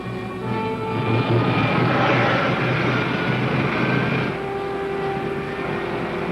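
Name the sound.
pilot jet firing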